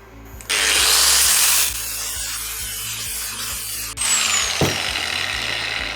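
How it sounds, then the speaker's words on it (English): A power grinder levels small metal pieces to scribe lines for a miniature wire frame model, giving a steady, close abrasive whine that surges loudly at the start, eases, then rises again, with no talk. "I have grinded, leveled it up to the scribe lines."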